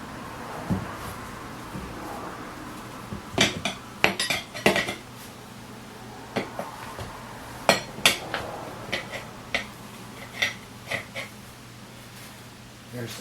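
A metal tire spoon clanks and scrapes against a steel rim while a Ford F250 7.3 tire is mounted on a BeadBuster XB550 bead breaker, with sharp irregular metallic strikes scattered throughout and close by.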